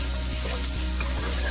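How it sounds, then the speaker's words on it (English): Egg fried rice being stirred in a hot pan, a steady loud sizzle and crackle of frying with soft scraping stir strokes every so often, close and continuous. "Give it a little stir,"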